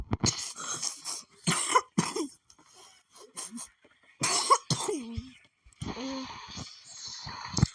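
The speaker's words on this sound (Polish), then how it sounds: "ten kaszel tak męczy" Repeated harsh coughing fits, close by, with short bursts and strained vocal sounds between them, ending in a brief throaty groan.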